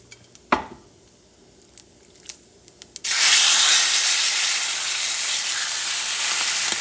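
Top round steak, seasoned with crushed red pepper and lime zest, hits a hot pan and sears with a loud, steady sizzle that holds to the end, after a few quiet knocks and taps.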